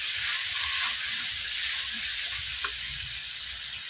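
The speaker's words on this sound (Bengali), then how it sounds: "আমি মশলাগুলো একসঙ্গে জল দিয়ে ভালোভাবে কষিয়ে নিচ্ছি 2 থেকে 3 মিনিট" Onion, ginger, garlic, chilli powder and turmeric fry with water in a pan, giving a loud, steady, hissing sizzle throughout, with occasional faint stirring clicks underneath.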